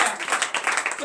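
Congregation applause at a morning prayer service in Benin, a short burst of dense clapping at steady loudness throughout, with voices mixed in.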